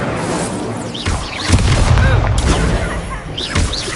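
Incendio fire spell cast in Hogwarts Legacy, loud booming blasts and crackling bursts of magical fire layered over game combat noise, with voices calling spells amid the action.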